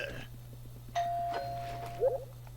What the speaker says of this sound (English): Don't ring the doorbell.